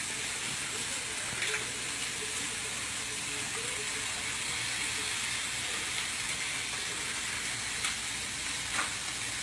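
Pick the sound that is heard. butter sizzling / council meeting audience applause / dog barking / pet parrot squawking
butter sizzling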